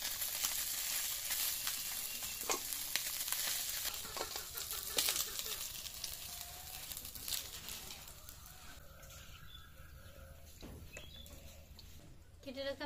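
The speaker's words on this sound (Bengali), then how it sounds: "মাছ ভাজা হয়ে গেছে, এখন তুলে নেব।" Small fish fry in hot oil in a village kitchen, a steady, fairly faint sizzle running throughout with occasional stirring clicks and distant birdsong behind.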